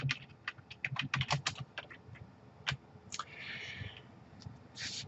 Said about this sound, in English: I can hold down the Control key on the keyboard and press Home